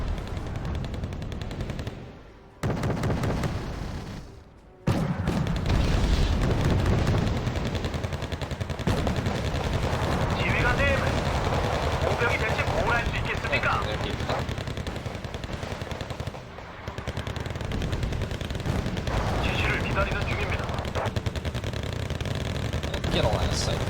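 Gunfire in the war game Wargame: Red Dragon comes as dense, nearly continuous machine-gun bursts and shots that fill the scene, loud and sustained, while people talk over it.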